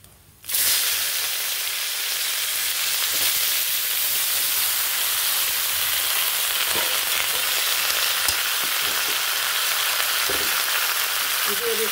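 Vegetables poured into hot oil with cumin seeds and bay leaf, erupting into a loud sustained sizzle that stays dense and steady, with faint stirring knocks underneath.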